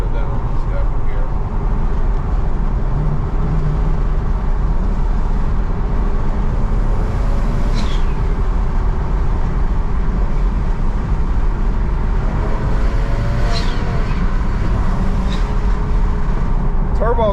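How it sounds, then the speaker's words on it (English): BMW 335 with upgraded turbos idling and running steadily, a constant low engine drone with faint turbo whistles, heard from nearby while people talk over it. "Turbo sound beautiful"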